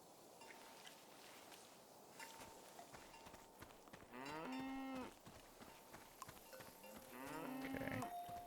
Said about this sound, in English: You are a cow and you are named Krasnahorkai.